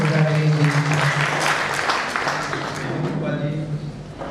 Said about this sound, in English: With a big round of applause, may I call Shri Uttam Khobragade.